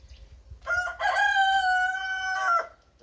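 A rooster crows once nearby, a loud drawn-out cock-a-doodle-doo in a quiet setting.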